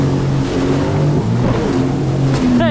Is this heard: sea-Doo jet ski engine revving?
yes